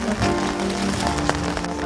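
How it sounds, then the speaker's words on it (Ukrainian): Light rain patters steadily on a surface nearby at Lubart's Castle in Lutsk, soft scattered drops with a faint low hum underneath. "Дощик."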